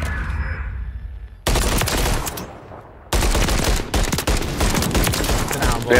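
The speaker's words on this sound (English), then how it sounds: "good shotgun hit, man" Shotgun blasts ring out in a Call of Duty Search and Destroy match, with two loud, dense bursts of gunfire and crashing impacts cutting in abruptly after a quieter stretch, sustained and close.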